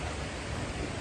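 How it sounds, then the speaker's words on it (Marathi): Roaring rush of Zenith Waterfall near Khopoli in monsoon season, a loud, dense, continuous wash of falling water heard up close. "तसं धबधब्याचा आवाज आपल्याला जास्त जोर जोरात यायला ऐकायला येतो आहे."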